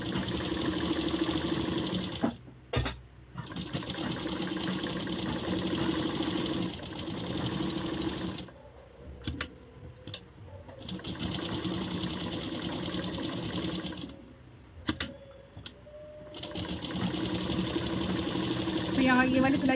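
A sewing machine stitching blouse fabric and its lining runs in long steady bursts with brief pauses between runs, close and loud, with someone talking over it.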